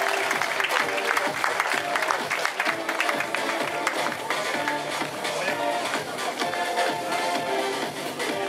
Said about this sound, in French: Mesdames, messieurs, les applaudissements à Masha Payenborg